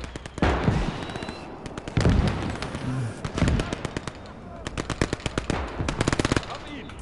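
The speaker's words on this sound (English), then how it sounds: "That was the machine gun" Machine gun fire in a World War II video game, repeated rapid bursts crackling throughout, some sharp and near, others softer, with occasional heavier booms and a voice talking in the background.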